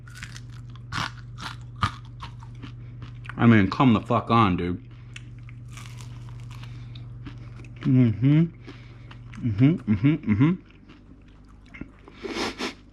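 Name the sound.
biting crunchy chicken wings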